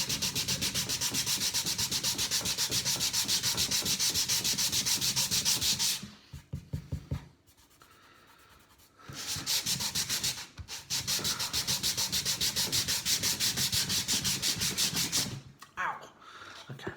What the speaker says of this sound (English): I think I'm sanding my hands there as well as the wood